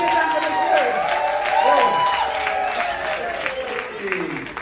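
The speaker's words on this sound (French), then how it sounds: "On l'applaudit plus fort pour Hippolyte, mesdames et messieurs." A comedy-show audience applauds and cheers the comedian Hippolyte in a steady, full wash of clapping that carries on throughout, with a voice talking over it.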